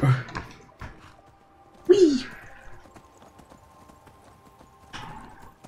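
Horse hooves clop in a few scattered bursts amid Skyrim game ambience, with a brief whinny-like sound near the middle and quieter stretches between.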